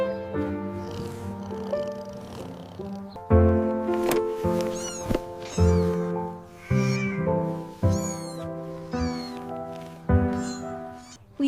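Stray cats meow again and again in drawn-out, overlapping cries, some rising into wails, close and loud over a low background hum.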